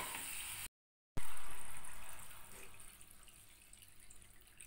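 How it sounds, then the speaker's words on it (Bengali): Water pours from a tap into a cooking pot for a chana dal bara curry, a steady broadband rush cut by a brief silent gap, then resuming loud and fading to a softer trickle. "এইবার পরিমাণ মতন জল ঢেলে দিতে হবে।"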